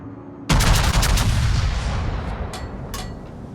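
Battleship main guns firing in the naval combat game World of Warships, one loud sudden booming salvo that rolls and decays, followed by a couple of fainter distant reports.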